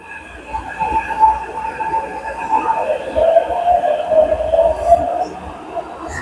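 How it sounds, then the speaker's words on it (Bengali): A metro train in Taiwan rumbles into a station with a rising, whining tone and squealing wheels, fairly close. "এই যে ট্রেন অন্য সাইডে ট্রেনটা ঢুকেছে"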